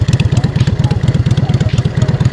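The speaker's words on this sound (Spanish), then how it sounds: "es una moto ya, puede decir que grande, viejita." An old Yamaha V-Star 650 bobber motorcycle engine runs loud and close, its V-twin thumping in a steady, rapid rhythm with no voices over it.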